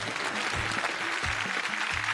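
A studio audience at a Marathi televised singing competition applauds the song's composer. Dense, steady clapping fills the whole moment, with faint low voices murmuring underneath.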